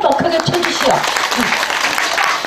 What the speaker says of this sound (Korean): 박수 한번 크게 쳐주시오